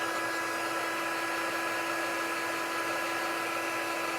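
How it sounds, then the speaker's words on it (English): An embossing heat tool blows hot air to melt white embossing powder on paper, a loud, unbroken fan whine with a steady pitch that never varies. "The key is to have your embossing tool heated up."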